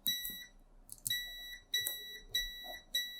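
A multimeter's continuity test gives a series of sharp electronic beeps, short chirps at first and then several sustained tones in quick succession, close and clear with no speech.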